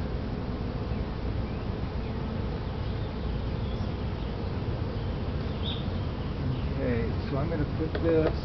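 Honeybees from a swarm a week after hiving drone in a dense, steady buzz around the hive, with brief louder passes of individual bees near the end.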